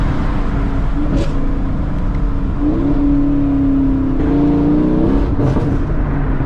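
Dodge Charger Scat Pack rumbling continuously with a deep, throaty exhaust burble and shifting engine tones, loud and close inside or beside the car, with no talking over it.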